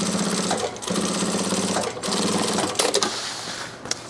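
A sewing machine stitches a drop liner tote in three short bursts with brief pauses between, including a back tack, followed by light handling clicks.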